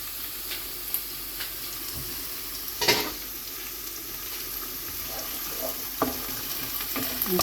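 Onions frying in a pan for mustard hilsa curry give a soft, steady sizzle, with a few sharp clicks and a louder stir or scrape near the middle.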